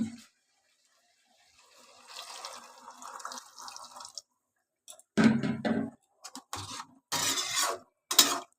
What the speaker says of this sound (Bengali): আমি জল ঢেলে দিচ্ছি